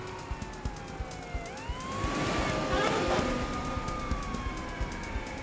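Police sirens wail in sweeping tones over a steady rumble of traffic, swelling louder midway as they come closer.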